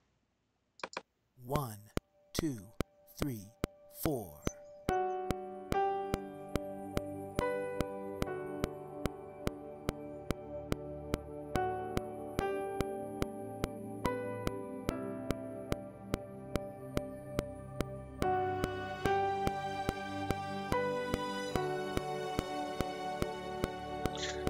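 Click track played back in Reaper alongside a guitar mix, a voice counting in before steady, evenly spaced clicks tick over sustained guitar chords throughout.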